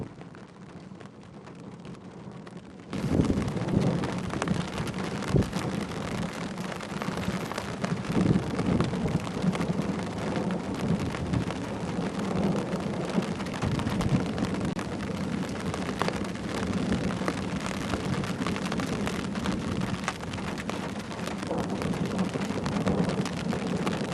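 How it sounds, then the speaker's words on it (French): A thunderstorm moving up from the south: steady, dense rain and a deep continuous thunder rumble begin abruptly after a few quiet seconds and fill the rest of the recording. "L'orage remonte du sud."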